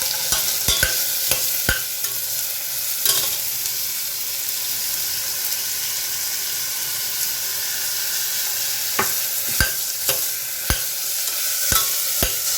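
Carrots and tomatoes sizzle steadily in a hot pan, with scattered sharp scrapes and clinks of a spatula stirring, close by and with no talking.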